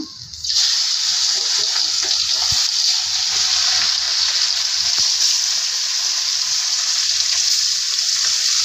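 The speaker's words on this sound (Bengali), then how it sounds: "বন্ধুরা এই মাছটি আমি ভাজতে নেব, হালকা ভাজে দিতে" Hilsa fish fries in a hot pan of oil, giving a loud, steady, close sizzle that starts abruptly and continues unbroken without any talk.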